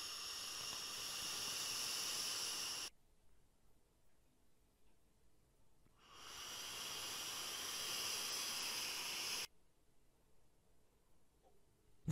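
Two long, airy hissing draws pulled through a Manta RTA rebuildable atomizer with the airflow fully open, direct lung style, each lasting about three seconds, close and steady, separated by quiet pauses.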